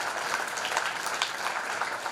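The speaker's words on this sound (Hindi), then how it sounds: "जोरदार तालियां होनी चाहिए इस विजन के लिए" Steady, dense applause from a school audience at a Teachers Day event, a continuous close wash of many hands clapping without pause.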